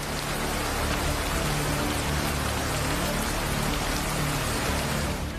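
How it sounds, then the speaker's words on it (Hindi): Steady rain pours down in a dense, even hiss that fills the whole stretch without a break, heavy and close, with no voices or other sounds over it. "बारिश शुरू हो गई।"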